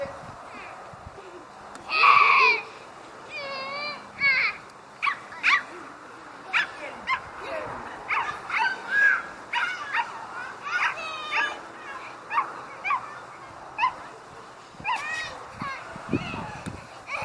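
A puppy barks and whimpers in short, uneven bursts, with people's voices talking in between.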